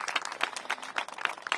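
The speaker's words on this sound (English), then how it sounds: "So I want to give Events DC a big round of applause." A crowd applauding at an outdoor civic announcement for a new Ward 8 entertainment and sports arena, steady overlapping hand claps at moderate volume, fairly distant and continuous throughout.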